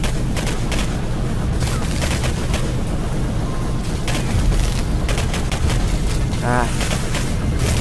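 Gunfire in the shooter video game Singularity: rapid bursts of sharp shots and booms crackle through a dense, loud game soundscape.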